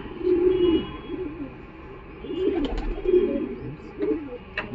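A female Udasira Madras pigeon coos in low, rolling murmurs at a market, soft and close, with faint clicks and background chatter underneath.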